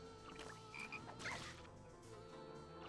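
A frog croaks in the Shadow Hearts video game, a few short close croaks set over busy battle music that keeps playing throughout.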